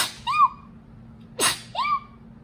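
A person sneezes twice, a short rising whistle-like burst before and after a sharp noisy snap, close up and loud against a faint hum.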